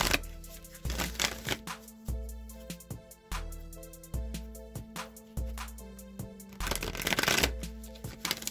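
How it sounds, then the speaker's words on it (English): A tarot card deck riffled and shuffled by hand, crisp repeated bursts of flapping cards with short pauses between passes, close and alone. "And I'm going to shuffle this deck 3 times."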